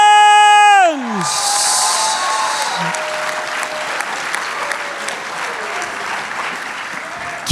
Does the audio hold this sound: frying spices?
no